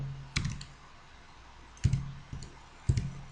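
Computer mouse clicks while working in GeoGebra geometry software, four sharp close clicks spaced irregularly over a few seconds, some as quick double clicks, with quiet room tone between.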